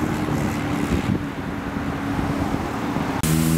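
A Volkswagen Gol Bolinha car passing on a busy avenue in São Paulo, a loud rushing roar of engine and road noise under wind buffeting, with a sudden jump in engine hum near the end.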